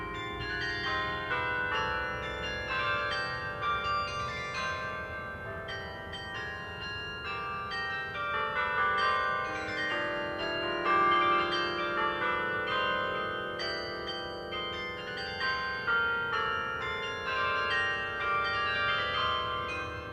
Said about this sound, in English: that child will someday make the carillon sound like this